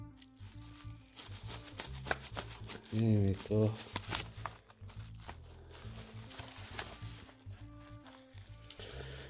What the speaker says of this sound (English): Deploy the scissors.